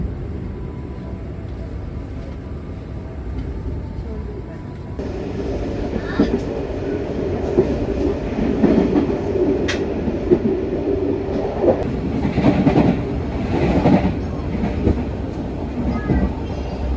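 The Madiun Jaya executive train riding on the rails, heard from inside the carriage as a loud, continuous rumble with rhythmic rattling and occasional clanks, intensifying partway through.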